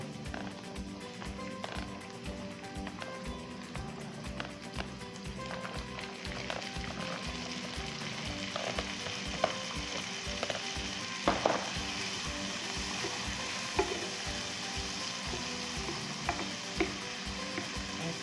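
Vegetables and garlic sizzle and fry in a pan, a steady crackling hiss with occasional stirring clinks, continuous and close.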